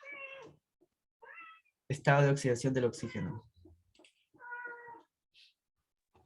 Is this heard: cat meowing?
yes